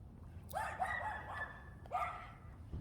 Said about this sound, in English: These little dogs make the most noise.